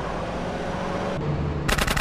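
Rapid bursts of machine-gun fire during a drive-by in GTA San Andreas on Android, over a dense, noisy mix, ending in a sharp volley of shots.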